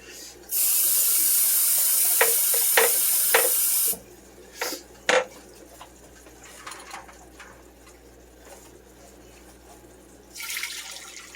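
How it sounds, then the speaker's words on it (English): Cold water gushes steadily from a tap into a cooking pot for a few seconds, then stops, followed by a few clinks and knocks of kitchenware. "add in some cold water to stop the cooking"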